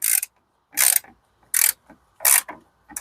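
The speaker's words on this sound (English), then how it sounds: "grab your T25 socket and go ahead and take this bolt out right here" A ratchet fitted with a T25 socket turns a bolt out while fitting a trailer hitch on a 2004-2010 BMW X3 E83, giving four loud, close bursts of rapid pawl clicking with short pauses between strokes and no talk.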